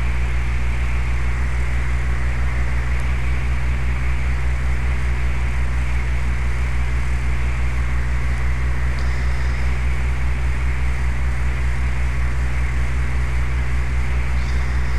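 Small single-engine training airplane in slow flight, heard from inside the cabin as a loud, steady propeller and engine drone that holds constant throughout with no speech.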